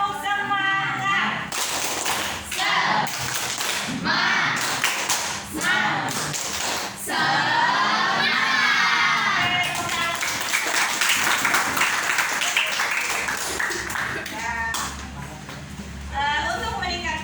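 A group in an Indonesian classroom session does the tepuk semangat chant, patterned rhythmic clapping mixed with voices chanting together, with pauses between sections and a lively close-up sound.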